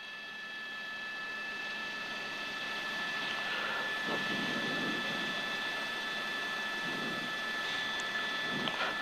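Inside a news helicopter flying over a Hollywood police chase at night, a steady, muffled engine and rotor drone holds at an even level, with a faint electronic whine running over it and no talking.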